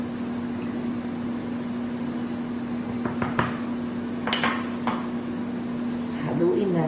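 Bibingka batter gets stirred in a bowl with oil and water, giving a few scattered clinks and scrapes of a utensil against the bowl over a steady background hum, with a denser swishing at the end.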